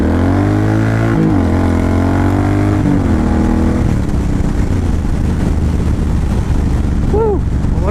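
Suzuki M109R Boulevard cruiser motorcycle pulling hard under acceleration on a test ride, its engine note climbing through the gears in a loud, continuous roar with wind rush, without pause.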